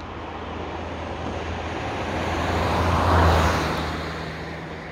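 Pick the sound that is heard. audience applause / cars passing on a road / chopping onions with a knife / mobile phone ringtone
cars passing on a road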